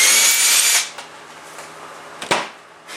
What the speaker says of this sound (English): You can just drill a hole in it.